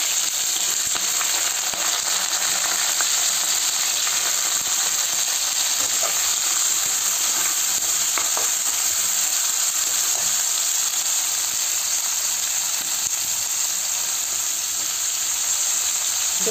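Chopped onion and peas frying in a pan with green chilli and a little potato, giving a steady, even sizzle that holds throughout without talk.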